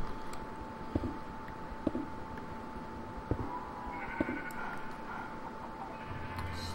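Sheep bleating in a modded Minecraft game, a few short bleats scattered over quiet background tones with soft click-like sounds between them, no talking.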